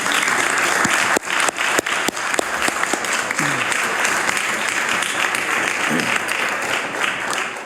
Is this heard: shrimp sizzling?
no